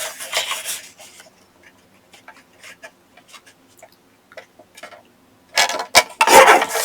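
Scissors trimming fabric scraps into 1-inch squares for button cards, a series of small soft snips and rasps at close range, sparse and quiet through the middle, with louder rustling bursts near the end.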